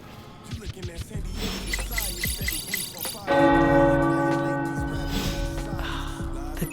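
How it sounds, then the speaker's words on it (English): Tower bells ring out in the Marvel Midnight Suns video game, a sustained, loud metallic tone that swells in about halfway through and lingers, preceded by a stretch of clattery in-game sound. "The tower bells are ringing"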